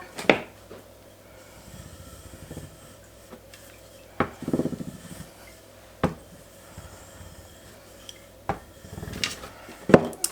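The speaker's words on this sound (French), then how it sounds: "je vais venir donner un petit coup de rouleau pour couper la pâte" A rolling pin pressed and rolled over puff pastry on a work surface to cut it, giving a few sharp knocks and soft rubbing scrapes, close and quiet, with gaps between.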